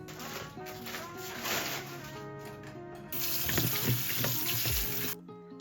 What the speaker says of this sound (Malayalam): ഇനിയിപ്പം കൊണ്ടുപോകാനുള്ള സാധനങ്ങളൊക്കെ കഴുകിയെടുക്കട്ടെ കേട്ടോ. ഗ്രേപ്സ്, ചെറി, അവക സാധനങ്ങളൊക്കെ.